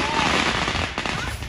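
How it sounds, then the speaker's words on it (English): Fireworks going off at a summer outing as a dense, continuous rapid crackling burst, loud and close, with voices mixed in. "Oh, fireworks."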